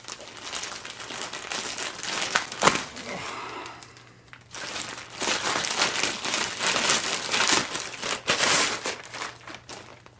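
A package is unwrapped and its plastic wrapping crumpled, with continuous close crinkling and rustling bursts, a sharp tear near the middle and a brief lull before more crackling.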